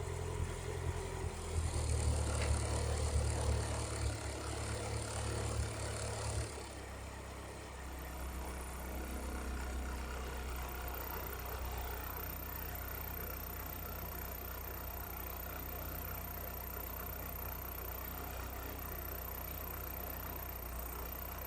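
A Toyota AE86 engine idles at about 1,000 RPM, a steady low rumble with a louder rougher patch in the first seven seconds that then settles into an even, quieter idle drone up close.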